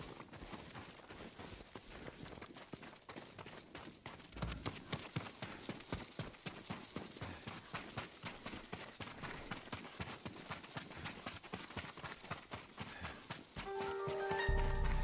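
Horses' hooves clip-clop in a steady rapid rhythm in the video game Ghost of Tsushima, the clopping growing louder partway through before a tone sounds at the end.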